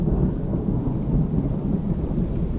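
Heavy rainstorm with rolling thunder at a campsite, a loud continuous low rumble under dense pouring rain, sustained throughout without voices.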